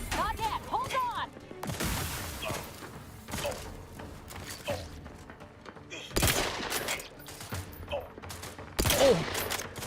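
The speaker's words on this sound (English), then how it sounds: "I don't know what I'm shooting at." Gunfire in the video game The Outer Worlds 2: loud bursts of shots and heavy impacts recur across the stretch, some clustered into rapid volleys, with game effects and voices mixed in between.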